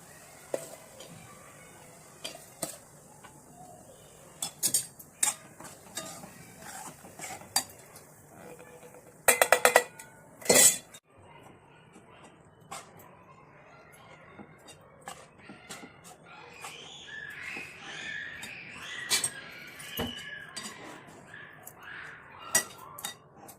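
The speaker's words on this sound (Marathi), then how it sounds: "पीठ आपण छान तुपामध्ये भाजून घेऊया." Urad dal flour roasts in ghee in a pan while a metal spoon scrapes and clinks against it, with irregular sharp knocks, a few loud clanks in the middle and softer stirring afterward, close by.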